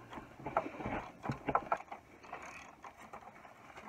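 A 15 mm bolt holding the torque converter to the ring gear is loosened during removal of a 4L60E transmission from a 1998 Chevy, with a few faint, close metallic ratchet clicks and tool clatter in short bursts.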